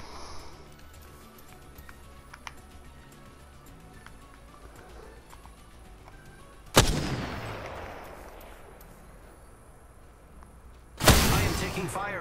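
Two sharp gunshot blasts ring out in the Apex Legends shooter game, each with a loud crack and a long decaying tail, several seconds apart over a quiet, faint background.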